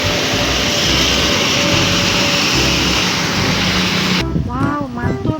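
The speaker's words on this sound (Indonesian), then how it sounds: "Terus kita dapat pesawat AirAsia warna merah." A red AirAsia airplane gives off a loud, steady broadband roar that cuts off abruptly near the end, leaving a short burst of other noise.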